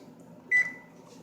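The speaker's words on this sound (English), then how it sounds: "Set your timer" A single short electronic beep rings out as a kitchen-style timer is set, brief and clear over a low steady background hum.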